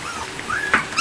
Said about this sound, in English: And all the pups are kind of just hanging out together right now.